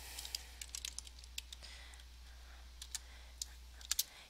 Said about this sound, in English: you would hit type and you would just begin typing in your comments here.